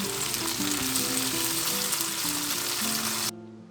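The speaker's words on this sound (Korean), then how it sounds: "두부 부치면서 후딱 만들 수 있어요." Tofu and a vegetable pancake made with flour batter, chives, chili and onion sizzle in a hot pan, giving a loud, steady crackling hiss with a faint stir. It cuts off abruptly near the end.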